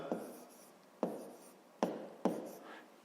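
Pen strokes on paper as numbers are written out for a fifth-grade division problem, with four soft, scratchy strokes spaced about a second apart, close and quiet.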